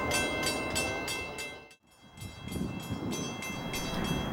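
Amtrak's northbound Vermonter train passing on the Springfield Line, a steady loud rumble of rail cars with rhythmic wheel clacks, briefly dipping before the roar resumes at full strength.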